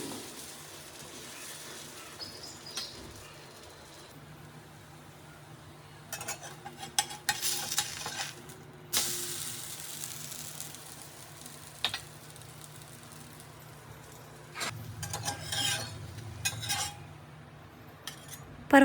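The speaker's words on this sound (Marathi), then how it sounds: "ह्याचे धिरडे मी सोडायला घेतले, ह्याचा डोसा मी बनवायला घेतला" Green moong dal dosa batter sizzles in a pan, a soft steady frying hiss broken by louder bursts and scraping clinks of a spatula or utensil at intervals.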